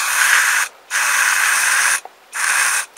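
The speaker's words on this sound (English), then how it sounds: "Take a spray" An aerosol spray can hisses in three close, loud bursts separated by short pauses, with a faint click between two of them.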